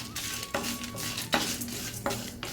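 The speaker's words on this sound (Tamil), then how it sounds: "இது நல்லா செவக்க வறுக்கணும்." Ponnanganni greens and green chilies are dry-roasted in a pan. A spoon scrapes and stirs in repeated close, quick strokes over a light sizzle, with no voices.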